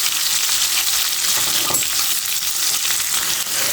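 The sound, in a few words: potatoes frying in oil after shrimp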